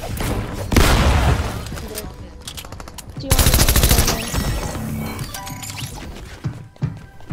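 Gunfire in a first-person shooter video game: loud rapid bursts of automatic shots and booming impacts, close and dense throughout, with a player talking over the action.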